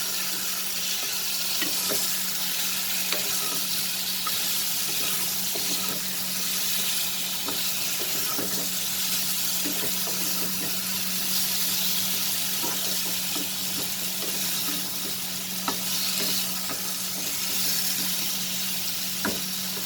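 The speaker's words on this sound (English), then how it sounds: "now over high flame, we are going to saute this chicken" Chicken pieces sautéing in a hot pan over a high flame with masala, a steady loud sizzle and hiss with scattered crackles and occasional stirring scrapes, continuous throughout.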